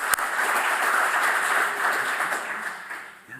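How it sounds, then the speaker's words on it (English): Applause rises from the audience at an academic symposium, brisk clapping that swells quickly, holds steady for a few seconds and then tapers off toward the end. "I would almost give you an applause."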